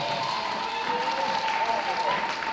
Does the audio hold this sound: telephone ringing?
no